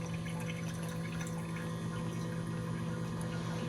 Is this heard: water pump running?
yes